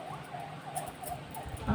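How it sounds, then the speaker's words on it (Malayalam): An ambulance siren wails faintly in the distance, a brief rising and falling tone heard over quiet background. "ആംബുലൻസ്"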